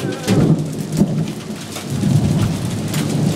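Steady rain pours down during a thunderstorm, with a sharp thunder crack near the start and a rumbling roll; the rainfall stays loud and continuous throughout, with no talking.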